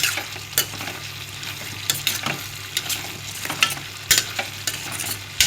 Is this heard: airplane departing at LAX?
no